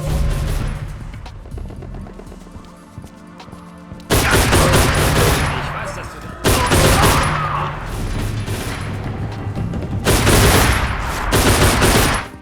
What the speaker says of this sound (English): Every encounter from this point onwards devolves into a shootout